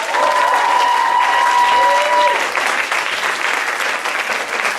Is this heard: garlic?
no